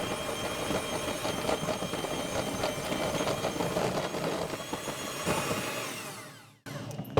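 An electric hand mixer whirs steadily while beating keto peppermint patty dough, a close, buzzy motor drone with slight rattling that stops abruptly near the end.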